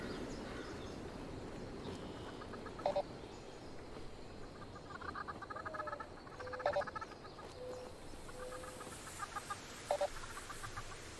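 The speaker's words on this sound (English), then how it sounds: "Hello, chicken." A chicken in Fallout 76 clucks in short, faint, repeated calls at roughly three-second intervals, set against a steady wash of outdoor game ambience with croaking frogs.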